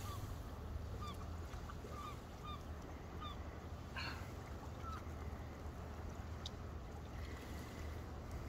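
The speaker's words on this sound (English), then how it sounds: "Just behind it. Goose." A goose honks on a cold lake in the morning, with a few faint, distant calls over steady wind and water noise.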